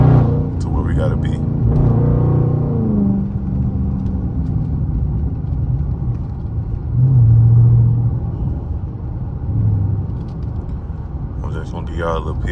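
A Dodge Charger Daytona 392 V8 rumbles deeply while cruising a backroad, with swells of engine roar that rise and fall. Brief talk appears at the start and end.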